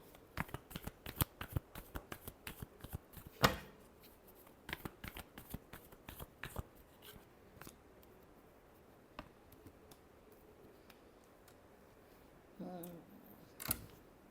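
Tarot cards are shuffled by hand at close range in a quiet room, a quick run of crisp riffling flicks and taps that thins out into a few scattered clicks.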